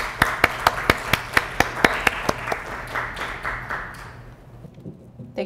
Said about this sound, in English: please welcome Professor Hyungna Oh with a long round of applause.